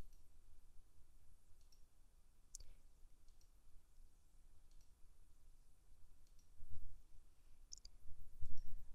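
Computer mouse clicks while drawing connecting lines in pneumatic circuit software, sparse sharp clicks spread over quiet low room hum, faint and close, no talking.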